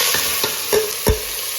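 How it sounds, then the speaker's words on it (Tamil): Onion and tomato fry in an oil tempering with cinnamon and fennel for a meat curry. A brief, steady sizzle is punctuated by a few sharp stirring scrapes. "இப்போ கறி தாளிச்சுக்குவோம்"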